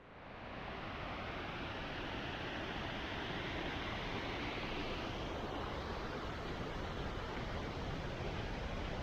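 Heavy rain falls on a woodland walk near Loch Doon, a dense, constant broadband roar that swells in within the first second and holds steady and close throughout, with no voices.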